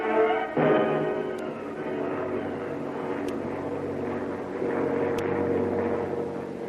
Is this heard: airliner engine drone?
yes